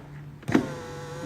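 A Porsche Cayman power window lowers after its regulator was replaced: a short, close electric motor whir with a soft thunk at the start, lasting under a second.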